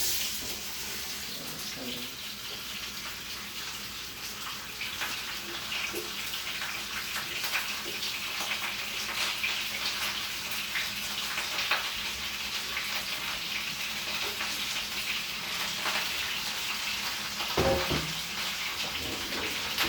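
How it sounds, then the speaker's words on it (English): Vegetables frying in two tablespoons of oil for a beef and snap pea stir fry make a constant hissing sizzle, with occasional light clinks and scrapes from the pan. "add the vegetables to the 2 tablespoons of oil"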